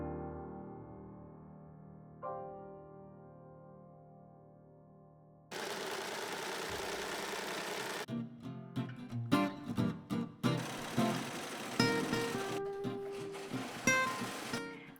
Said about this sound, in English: Then I sew the sides, crotch and inner leg and overlock.